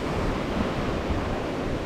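Rough sea surf breaking on a wild beach at high tide in strong wind near Krui, Sumatra, a steady, loud roar of waves mixed with heavy wind buffeting, with no voices.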